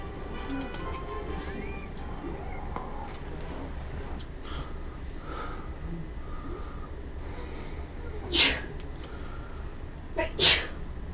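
Two sharp sneezes burst out a couple of seconds apart over a low steady background hum.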